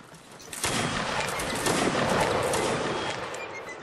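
A musket volley fired at will in a video game, with dense overlapping gunfire that sustains as a loud, rolling crackle for several seconds.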